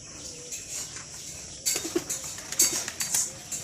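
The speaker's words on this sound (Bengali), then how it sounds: "কি সুন্দর সাদা পায়রা" White pigeons outdoors on a rainy morning, with quiet at first and then a burst of fluttering, soft cooing and scattered bright chirps nearby, with no talking.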